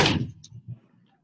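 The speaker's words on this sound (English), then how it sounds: "I'm going to shut the doors so we can hear better." A door swings shut in a seaside condo with a firm thump, followed by a faint click and a softer knock of a second closing as the sound dies away.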